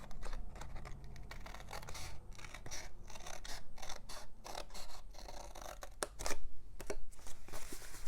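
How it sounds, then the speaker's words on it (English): Scissors snipping through a paper box to remove a whole piece, with repeated close crisp cuts and light scraping and rustling of the folded paper. "I'm going to cut this whole piece off."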